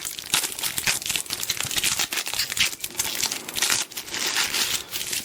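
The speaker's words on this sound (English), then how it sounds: "Let's just tear it off." Plastic wrapping torn and crumpled off a Dell Streak smartphone box, a continuous close-up rustling and crinkling with sharp tearing bursts throughout.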